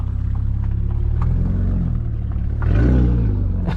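Audi S4 B8.5 with an ARMYTRIX catback valved exhaust, valves open in dynamic mode, idling with a deep steady rumble before a loud rev swell near the end, close and without talk.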